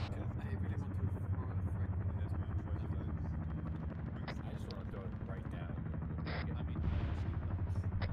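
A Chinook helicopter in Arma III, sitting on the ground with its rotors turning, gives off a steady, dense drone that runs the whole time without a break. Occasional sharper bursts rise over it near the end.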